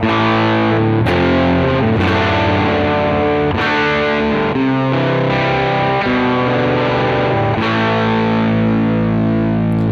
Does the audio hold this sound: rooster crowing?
no